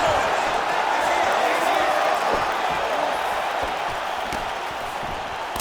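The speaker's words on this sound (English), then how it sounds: "This crowd is going sick" Arena crowd in the EA Sports UFC 5 fighting game, a dense roar of cheering and shouting that stays loud throughout, with commentary voices over it.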